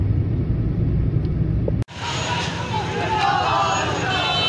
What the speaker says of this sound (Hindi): यहाँ पे ट्रैफिक बिल्कुल जाम कर दी गई है हर तरफ से